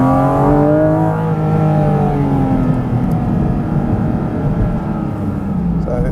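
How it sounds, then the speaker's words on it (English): Porsche 718 Cayman GT4 RS with a naturally aspirated engine pulling hard from very low revs out of a tight hairpin, a loud, close, continuous engine note rising steadily in pitch throughout. "Big hairpin, very low RPM, give it some gas, picks up straight away."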